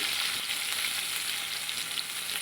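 Pointed gourd (potol) pieces salted with turmeric frying in a pan, a bright, continuous crackling sizzle heard close up, steady and unbroken, with no voices.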